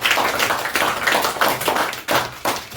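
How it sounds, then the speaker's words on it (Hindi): Children in a classroom clap loudly together, a dense, uneven patter of many hands that swells and dips in waves, with a brief lull near the end before the clapping resumes. "जोरदार तालियां सभी बच्चा बताइए।"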